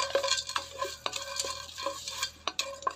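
Biryani masala spices lightly frying in a wok, with quick rhythmic scrapes and clinks of a spoon over a soft sizzle, close and without voices.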